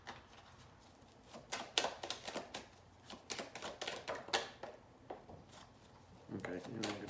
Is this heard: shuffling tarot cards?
yes